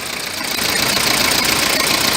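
A 1995 Toyota Hiace with a 1KZ-TE diesel engine runs with hard-starting trouble, giving a steady, dense broadband clatter and knock that holds loud and even through the short stretch, with no voices.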